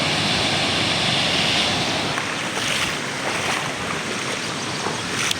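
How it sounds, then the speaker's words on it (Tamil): Water rushing forcefully past in a continuous loud roar, close by, with heavy wind buffeting the microphone and no voices. "இதுதாங்க தண்ணி பாருங்கள், எவ்வளோ ஃபோர்ஸில் அடித்து போயிட்டுருக்குன்னு பாருங்கள்"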